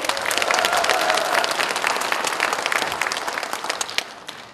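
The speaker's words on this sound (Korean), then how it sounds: "격려의 박수를 보내주십시오" A large hall of delegates applauds at a political party convention, dense sustained clapping that stays loud and steady before thinning slightly toward the end, with faint crowd murmur beneath.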